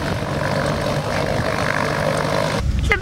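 Small propeller airplane engine at Honolulu airport, a steady loud droning hum heard from inside the cabin, with a brief change in tone near the end.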